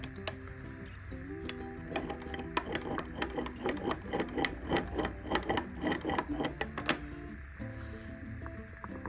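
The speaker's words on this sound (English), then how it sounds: "the bearings are fucked down the bottom, which will be that real rumbling noise" Worn bottom-end bearings in a Yamaha YZ85 engine, heard as a rapid mechanical clattering and rumbling that starts, runs steadily for several seconds and then dies away, fairly quiet and close, with no talk.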